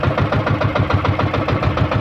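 A fishing boat's engine runs close and loud, a steady rhythmic chugging knock of a mid-sized motor idling, with no talk over it.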